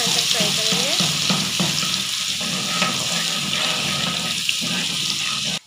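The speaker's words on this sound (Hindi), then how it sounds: "इसको हम ब्राउन कलर आने तक फ्राई करेंगे।" Garlic ginger paste frying in hot oil in a pan, a steady loud sizzle that runs without a break through the whole stretch, with occasional stirring noises over it.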